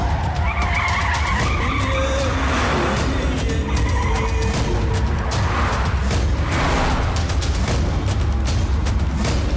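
Tires squeal and skid during a car chase in an action movie, several long screeching slides over roaring engines, loud and close, with music and shouted bits mixed in underneath.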